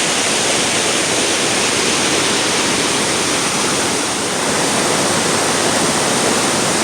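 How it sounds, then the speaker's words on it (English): Fast-flowing mountain stream near class 5/6 river rapids, a steady broad rush of water that holds constant and full throughout, with no voices. "Look at that stream up there, way up at the end. That is flowing fast."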